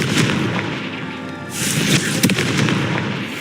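A Confringo blast spell from Hogwarts Legacy, heard as a loud, dense crackling burst like fireworks with sharp booming pops, continuous through the moment with a brighter second surge partway in.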